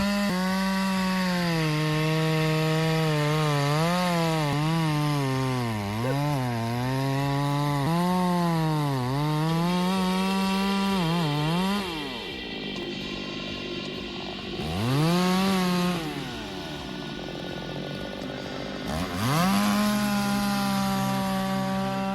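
A chainsaw engine revs and bogs repeatedly, its pitch rising and falling as it cuts wood in a wood processing factory, loud and close, with brief pauses between passes.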